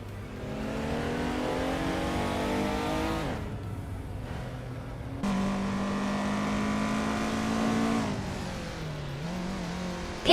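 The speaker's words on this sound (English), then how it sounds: "Aminzons is driving a 1995 Porsche 911 993 Carrera." Engine of a 1995 Porsche 911 993 Carrera in a racing video game, a steady loud drone that rises and drops with gear changes, including a clear shift partway through, alone with no talk.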